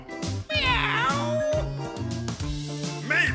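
A cat-like meow rises and falls twice over steady background music, a parrot imitating a cat, fairly close and clear.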